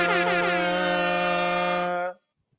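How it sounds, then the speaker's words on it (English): An air horn sound effect blares as one loud, continuous blast of about two seconds that cuts off abruptly into silence, with no talk over it. "Big air horns for Reg, man."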